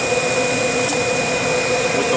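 A vacuum pump on a Vacuum Atmospheres HE-243-2 glove box pulls nitrogen out of the chamber with a loud, steady broadband drone and a thin constant whine, unbroken throughout.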